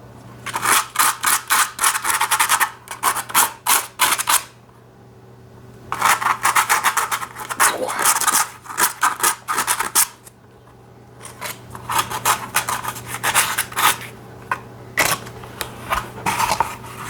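Sandpaper rubbed over a dinosaur mask in quick, steady rasping strokes, arranged in three separate bursts with short pauses between, close and crisp against a low constant hum.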